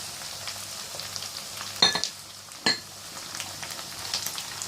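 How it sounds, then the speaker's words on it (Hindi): Chicken mince fries with onion in a karahi, giving a steady close hiss and sizzle with two sharp clanks of a utensil against the pan partway through; no voices. "और अब जो है इसके अंदर चिकन का मिन्स ऐड कर रही हूँ।"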